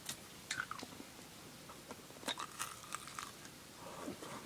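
Caramel candy being chewed close up, soft sticky crunching bites in a quiet setting with scattered wet mouth sounds.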